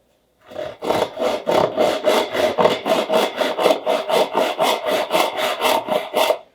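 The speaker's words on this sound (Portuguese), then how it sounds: "O nosso serrote, esse serrote aqui, quando a gente vai cortar" A hand saw rasps through wood in steady back-and-forth strokes, about a dozen evenly paced cuts, close and clear with no talking.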